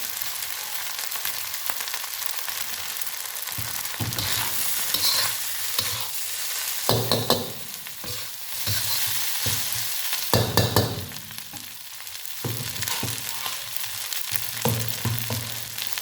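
Egg fried rice is stirred in a hot pan, with continuous sizzling broken by repeated scraping and clattering strokes of the spatula, loud and close.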